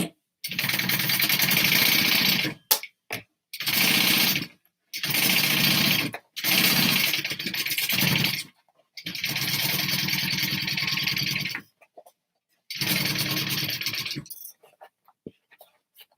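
A sewing machine stitches a handbag seam with a half-inch allowance, running in repeated loud, steady bursts separated by short stops, close by and without talk.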